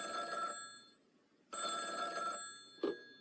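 A telephone bell rings in two long trilling bursts separated by a pause, clear and fairly close, with a short click afterward.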